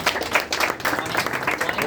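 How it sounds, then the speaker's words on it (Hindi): At a career talk and job satisfaction workshop, an audience claps to welcome a guest speaker, a brief, steady burst of close, moderately loud hand clapping. "आप सभी तालियों से उनका स्वागत करें"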